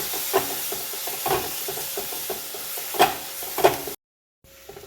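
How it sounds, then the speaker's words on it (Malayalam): Masala being stirred in a frying pan for a Malayalam-style stingray curry with onions and green chillies, giving a steady sizzle and hiss broken by scraping stir strokes before it abruptly cuts to near silence. "മസാല നന്നായിട്ട് മിക്സ് ചെയ്താണ്"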